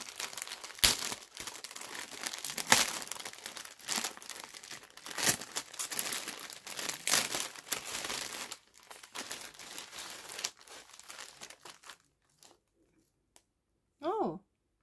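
Paper envelope or pouch being handled and opened, with close crinkling, rustling and tearing for about twelve seconds, then near silence and a short vocal sound at the end.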